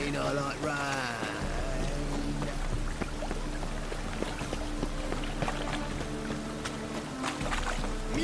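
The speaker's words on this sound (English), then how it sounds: "Rain, I like rain." Rain in The Witcher 3 game world, a steady dense hiss of falling rain with a continuous low hum beneath, holding evenly throughout with faint scattered drips and movement sounds on top.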